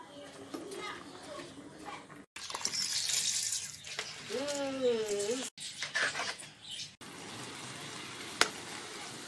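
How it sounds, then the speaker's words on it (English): Tap water runs and splashes while rice is rinsed for Jamaican-style rice and peas, close and moderately loud, with short breaks and a sharp click near the end; a voice speaks over it. "I'm going to wash my rice now and put it in."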